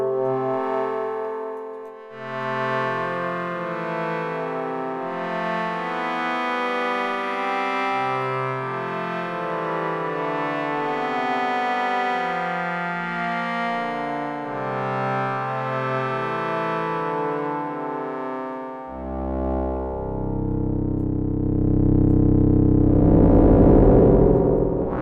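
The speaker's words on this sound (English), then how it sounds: "clearly sounds like some sort of nonlinear distortion" A synthesizer with its filter FM turned up plays a sequence of gritty, nonlinearly distorted tones that step up and down in a repeating pattern, ending in a denser, noisier burst.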